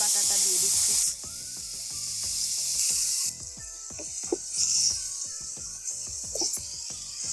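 Garlic and onion paste hits hot oil in a pan where whole garam masala has just been fried, giving a loud, steady hiss and sizzle that holds for several seconds alongside intermittent clatter and stirring sounds.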